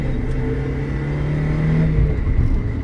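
A 1600 four-cylinder engine in a Mazda MX-5 NA revs with a steady, smooth droning note that rises slightly, then eases off near the end. It is close and moderately loud, with no talk.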